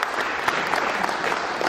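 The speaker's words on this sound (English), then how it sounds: "Yes, you can applaud for" Audience at a political talk in Plymouth Meeting, Pennsylvania breaking into steady, dense applause, a continuous wash of clapping from a crowd filling the room.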